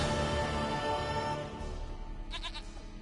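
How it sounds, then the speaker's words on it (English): A goat in the video game Witcher 3 gives a short bleat near the end, set against a dense, steady musical and ambient background. "Goat of mine, dearest, sweetest goat."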